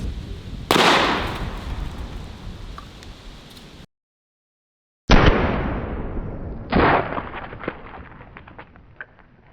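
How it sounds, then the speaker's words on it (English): Booming shots from a Henry Model X lever-action rifle in .44 Magnum fired outdoors into garbage targets, several loud close reports with long ringing decays, the sequence broken by a brief silent cut. "the 44 Magnum might be my new favorite lever gun caliber, especially if you want one just to have fun and mag dump into garbage like we're doing today"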